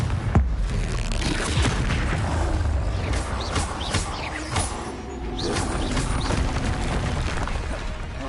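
Confringo spell blasts in Hogwarts Legacy come as repeated booming impacts and crashes with whooshing bursts, thick and continuous over the whole stretch amid dense combat noise, with no talking.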